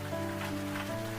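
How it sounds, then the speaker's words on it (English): Soft, steady rain falls over a quiet village at night, a gentle hiss of drops on the ground heard alone beneath a low, sustained musical drone. "And the rain, as always, played its soft music"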